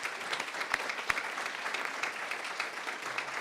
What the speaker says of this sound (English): can we have a huge round of applause for Alex Ball to come to the stage